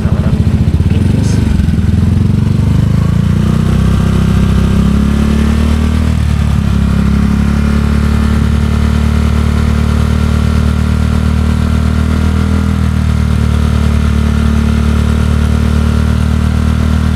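A Honda ADV160 scooter fitted with a power pipe exhaust runs loud and close at a steady held rev, one continuous throaty drone with slight wavering, with no talking over it.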